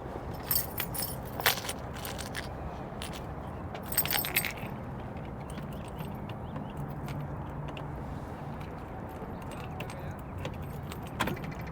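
Car keys for a 1970 Dodge Challenger Deputy jangle in a few short metallic bursts close by, set against a quiet background hum.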